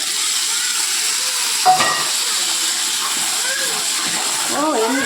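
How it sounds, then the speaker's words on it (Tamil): Onions and tomatoes sauté in a pan with a steady, close sizzling hiss and a brief louder crackle partway through, while voices murmur faintly in the background. "நல்ல வெங்காயம் நல்லா வதங்கின அப்புறம் தக்காளி போட்டு ஊற்றிக்கலாம்."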